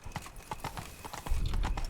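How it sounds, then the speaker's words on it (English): Horse hooves clip-clopping along a street in The Witcher 3, a steady quick rhythm of close hoof strikes, growing heavier near the end over a low rumble. "Love my horse."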